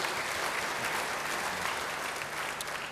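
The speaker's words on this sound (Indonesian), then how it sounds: "Ayo yang senang beri tepuk tangan yang baik bagi dia" A church congregation applauds, a dense, even wash of many hands clapping for the full stretch at moderate distance, with no voices standing out.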